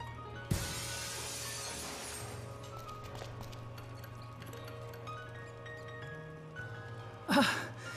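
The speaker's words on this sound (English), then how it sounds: "let's cross our fingers that the seat cover absorbs the noise of the breaking glass" Glass breaking in a video game, a sharp shatter near the start followed by quiet humming ambience, with another bright crash near the end.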